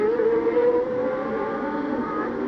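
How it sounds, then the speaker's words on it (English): 1990 Formula One car at the Japanese Grand Prix at Suzuka running with a broken exhaust header, giving a steady, loud, rough droning engine tone with wavering harmonics, sustained without pause and no talk over it. "Sounds like a broken exhaust header."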